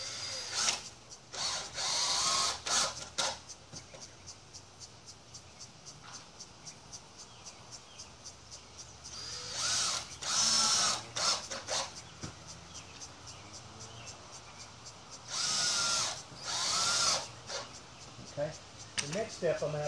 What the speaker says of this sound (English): I'm just going to tighten it up there with about 3 screws.